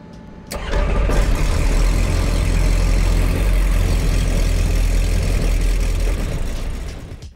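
A light aircraft propeller engine coughs into life after a brief pause, then holds a loud, steady rumbling idle close by that eases slightly near the end.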